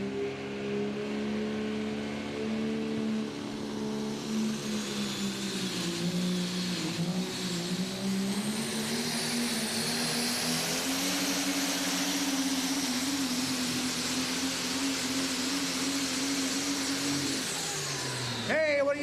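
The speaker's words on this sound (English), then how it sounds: "Mucho RPMs are going to come out of this truck." Pulling trucks rev their engines at a truck pull event, a steady loud roaring drone that rises slowly in pitch and holds, with a high whine above it and a sharp change at the very end.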